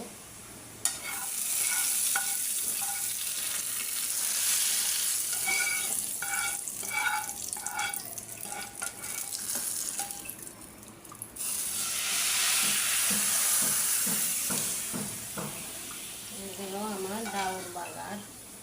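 Dal cooks in a pot with a steady frying hiss and sizzle while a spoon stirs and scrapes against the pot, loud and close throughout.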